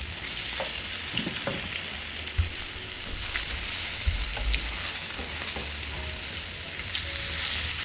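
A thick Korean potato pancake fries in an oiled pan with a steady, close sizzle. Faint clinks and scrapes from a utensil come through now and then, and no one speaks.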